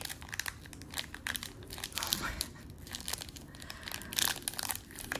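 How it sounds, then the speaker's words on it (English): Crinkly plastic wrapper of a Pokémon trading card pack being torn and crumpled open by hand, continuous close rustling and crackling with sharper tearing bursts, no voices. "so we're opening up a pack"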